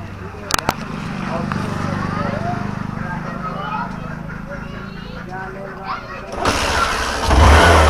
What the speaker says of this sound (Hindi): देखिए किक के मदद से ये गाड़ी स्टार्ट हो गई